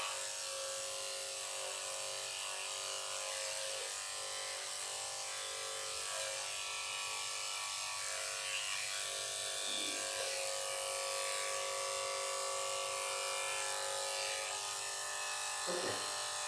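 Electric clippers trim an elderly miniature schnauzer named Kiki, a steady high buzz running close and constant for the whole stretch, with a couple of brief soft bumps and no talking over it.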